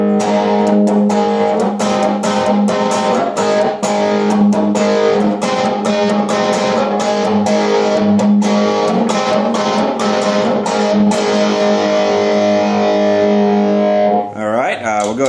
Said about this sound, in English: You hear the gain starting to come up as the volume comes up.